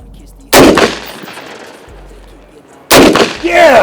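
Two sharp, loud gunshots spaced a couple of seconds apart during combat-stance shooting practice, each with a short ringing decay.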